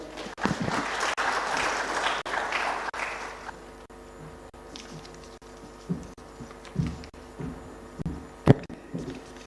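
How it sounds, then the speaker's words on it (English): Conference audience applause at a Uganda water and environment week closing session, a dense burst of clapping for the first few seconds that thins into scattered claps and quieter room noise. "A round of applause for him."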